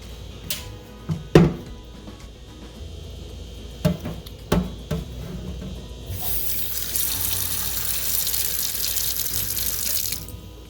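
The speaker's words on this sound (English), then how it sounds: "use my scrubby to get rid of all of the small food particles" Several scraping clanks of a chainmail scrubber against a cast iron pan, then running tap water fills the sink in a steady rush for the last few seconds.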